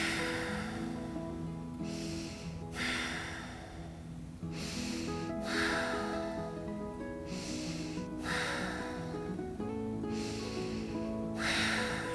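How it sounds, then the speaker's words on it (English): Slow, deep breaths taken while holding a yoga pose, with about five audible exhale bursts spaced a couple of seconds apart over a steady background of soft music. "We're going to take 5 breaths."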